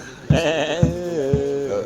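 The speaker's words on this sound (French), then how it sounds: "J'ai inséré une chèvre au milieu." A goat bleat is spliced into a music loop at a house-warming party, three loud wavering bleats in a row, each starting with a sharp onset and trailing off, close and prominent.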